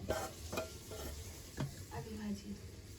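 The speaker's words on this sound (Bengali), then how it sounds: "এটা আলু ভাজা" Potatoes frying in a home kitchen, a low sizzle under repeated scraping and stirring strokes of a spatula against the pan, a few utensil clinks, close and fairly busy.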